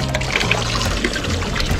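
Water running from a public drinking fountain in a town center, a steady close trickling and splashing stream lasting under two seconds.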